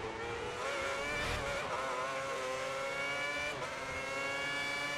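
Formula 1 race car engine in the F1 2010 video game, a steady high-pitched whine with rising and falling harmonic lines as it revs through gears, loud and continuous without talk.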